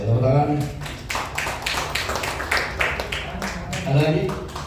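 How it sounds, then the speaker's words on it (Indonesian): Scattered clapping from a small audience at an Indonesian school teacher-training session, uneven and moderately loud, with a low hum and some voice underneath throughout. "Tepuk tangan."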